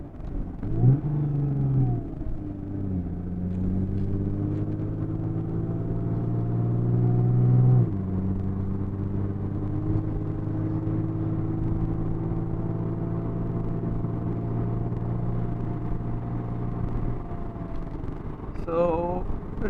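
Engine of a 2017 Lexus IS 350 revving as the accelerator pedal is pressed, a steady harmonic drone that swells early and holds, with a brief rev change midway, heard from inside the car.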